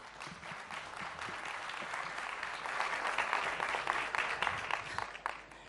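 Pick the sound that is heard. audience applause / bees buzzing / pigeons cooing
audience applause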